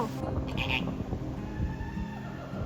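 Chilean flamingos calling at a wildlife park in Cork, Ireland, a few nasal, bleating honks over background murmur, moderately near.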